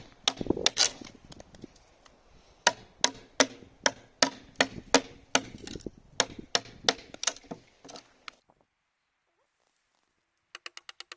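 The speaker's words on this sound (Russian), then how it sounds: "Далее нам потребуется стамесочка и молоточек." Chisel tapped with a small hammer into wooden beam framing for a shed foundation, a run of sharp, evenly spaced strikes at close range that stops, then a brief quick flurry of light ticks.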